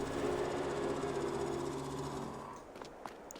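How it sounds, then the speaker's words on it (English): An all-electric vehicle in Farming Simulator 22 runs with a steady, even hum that fades after a few seconds, leaving a few faint clicks and ticks. "And that's the sound of an all-electric engine."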